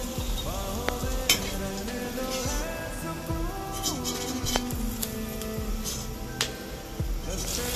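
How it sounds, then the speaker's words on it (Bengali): Okra chips fry in hot oil with a continuous close sizzle, punctuated by sharp metallic clinks and scrapes of a utensil stirring in the pan. "ভেন্ডি চিপস ভাজা হয়ে গিয়েছে"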